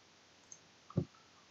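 A single soft computer mouse click sounds close against quiet room tone, with a faint lighter tick just before it.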